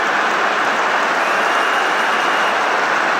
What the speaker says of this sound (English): A huge roar from the crowd as the referee blows the final whistle.